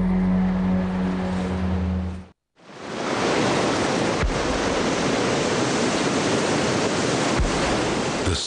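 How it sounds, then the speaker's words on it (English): Southern Ocean surf pounding the cliffs of Dinosaur Cove, a loud, steady roar of breaking waves that briefly drops out, then returns as a continuous heavy wash. "The Southern Ocean continues to pound away at the cliffs of Dinosaur Cove."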